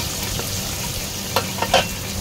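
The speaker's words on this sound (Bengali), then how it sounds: "পেঁয়াজগুলো একটু নেড়ে চেড়ে নিয়ে ভেজে নিতে হবে।" Chopped onions frying in a pan with black cumin, a steady sizzle running throughout with a few sharper scraping clicks from stirring near the end.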